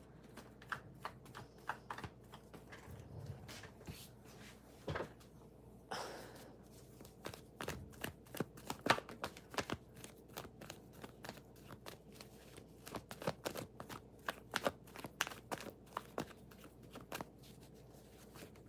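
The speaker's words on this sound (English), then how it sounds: "Give me one moment, Jambiette, to shuffle the cards." Rapid, crisp shuffling of tarot cards with repeated riffles and taps, fairly close and steady throughout, with occasional soft handling noises between bursts.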